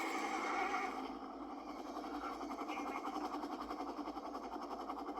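Horses on a farm whinny in a loud, wavering neigh at the start, followed by a steady, rough, pulsing rumble. The sounds are close, with no talking.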